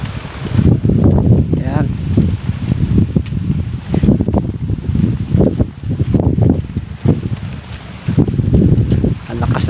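Strong typhoon wind roars and buffets the microphone continuously, loud and close, while people talk intermittently over the gusting noise.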